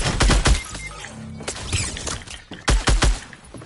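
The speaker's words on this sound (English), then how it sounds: "Where the fuck did they shoot us from?" Rapid gunfire in a battle royale video game: bursts of loud, close shots in quick clusters, separated by short lulls, with a tense back-and-forth rhythm.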